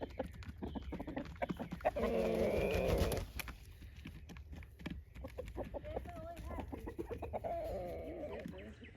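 Chickens cluck and chatter outdoors on a spring homestead, a busy flock nearby with a louder burst of calling early on, while a person talks intermittently over the steady clucking.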